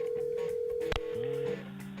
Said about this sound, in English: Let's check Adam's voicemail